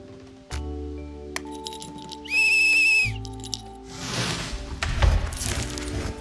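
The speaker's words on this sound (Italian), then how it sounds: "Un piccolo fischietto." A small whistle is blown once in a video game, a bright high steady tone lasting under a second among game music and effects, followed by a louder rumbling rush of sound.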